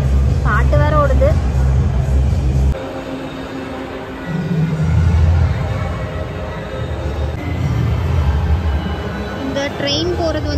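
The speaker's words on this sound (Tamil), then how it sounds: "இந்த ட்ரெயின் போகிறது வந்து சூப்பராக இருக்குது பார்க்க." Train passing inside a busy shopping mall, a low rumbling roll under crowd babble, music and someone talking, with the rumble shifting as it moves past.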